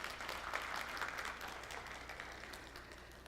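Audience applause at a Korean HR conference keynote, a steady wash of many hands clapping that fills the whole stretch at a moderate, somewhat distant level.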